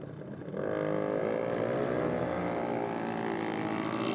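A drag racing car's engine on the start line at a track championship, rising into a loud, sustained revving drone after a brief quieter start, holding steady for several seconds without any talk.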